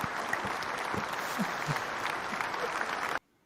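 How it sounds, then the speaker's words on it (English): Audience applause at a live comedy show, a dense, steady wash of clapping from a crowd that holds for about three seconds and then cuts off abruptly. "Applause for that."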